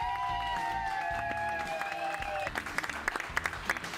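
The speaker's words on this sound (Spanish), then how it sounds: "venga el aplauso de vuelta, por favor." Guests at a baby shower applaud a clown's act, with lively clapping over music that holds sustained tones before giving way to sharper, more distinct claps.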